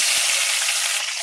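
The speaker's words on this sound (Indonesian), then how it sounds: "Sekarang aku mau goreng cabenya ya teman-teman." Chili peppers frying in a pan for jengkol balado give off a loud, steady, close sizzle of hot oil that holds unbroken through the whole moment.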